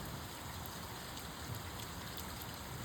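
Heavy monsoon rain falls on Sikhwala village, Lambi block, Sri Muktsar Sahib, making a steady, even hiss of drops that stays faint and constant throughout, with no voices.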